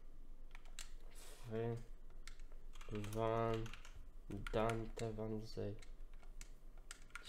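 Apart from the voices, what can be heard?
clicking computer controls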